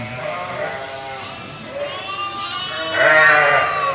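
A sheep bleats repeatedly up close, its wavering calls rising louder near the end, heard at a farm during a spring live broadcast.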